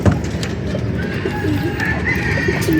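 Pigeons landing and settling, with soft wing flutters and low cooing mixed into a busy rumbling outdoor background, plus a faint voice nearby.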